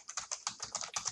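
An equation is typed on a computer keyboard: a quick run of about a dozen crisp, close key clicks in an even, brisk rhythm, quiet and with no voice.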